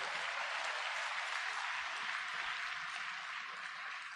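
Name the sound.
audience applause for a speaker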